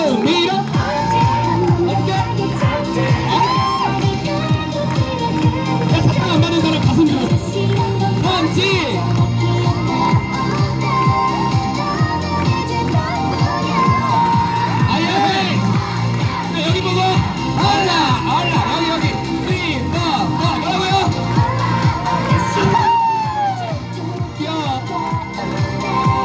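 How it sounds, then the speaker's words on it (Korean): A crowd at a street dance-team busking show in Hongdae cheers, shouts and whoops continuously and loudly over music and chatter. "여러분들의 박수 함성 지금이에요."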